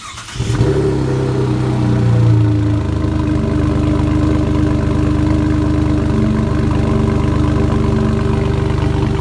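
A 2017 Chevy Colorado V6 pickup with a new exhaust cranks and fires up, revving briefly before settling into a deep, throaty idle, loud and close.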